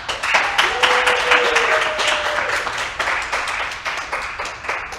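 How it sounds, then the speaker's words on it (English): Studio audience applauding at a virtual fall fête for two honorees, steady close clapping filling the whole stretch without a break, with a faint tonal sound and a little murmur under it. "applaud at home and applaud here in the studio"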